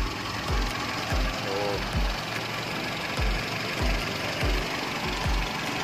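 A Toyota Kijang fitted with a racing exhaust idles nearby, its engine thumping in a steady, even pulse over a constant broad rumble.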